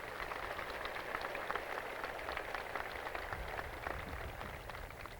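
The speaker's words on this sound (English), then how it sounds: "Please give them a round of applause." A graduation ceremony audience gives a round of applause: an even, moderately distant wash of many hands clapping that holds steady throughout.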